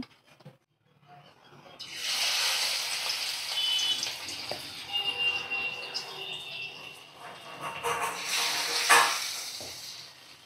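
Coriander leaf pakoras frying in hot oil give a steady, close sizzle that starts after a short quiet moment and keeps hissing continuously, swelling slightly toward the end.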